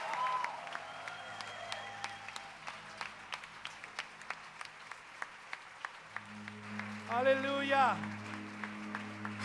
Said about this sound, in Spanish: Dale un aplauso más fuerte al Rey.